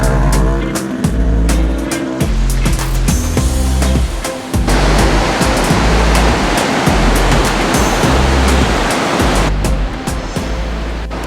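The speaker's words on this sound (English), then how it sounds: "showing me another waterfall" A waterfall near Jardín, Colombia, a loud, continuous rushing roar of falling water heard close by, with some irregular rumbling and no voices over it.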